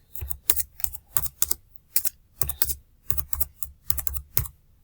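A computer keyboard clacks as a book title is typed in, with short clustered bursts of keystrokes separated by brief pauses, close and clear with no talking.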